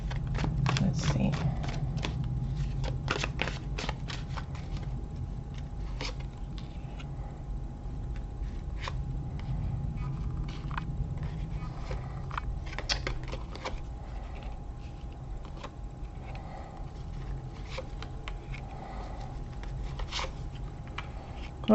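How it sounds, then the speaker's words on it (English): Tarot cards are shuffled by hand for a close, steady run of soft papery riffles and clicks with a low hum beneath and faint voice-like murmur at times. "Let me shuffle the cards."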